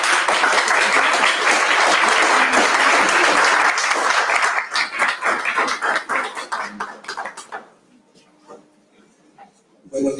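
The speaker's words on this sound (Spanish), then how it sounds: "voy a pedir un aplauso" A conference audience gives loud, dense applause that holds steady for several seconds, then thins into scattered separate claps and fades to near quiet, with a brief sound near the very end.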